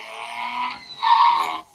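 A small Carrera Shell Bluetooth remote control car, 1:41 scale, runs across chicane lines on a track, giving a close, buzzy whirring hum that dips briefly and then rises louder before cutting off.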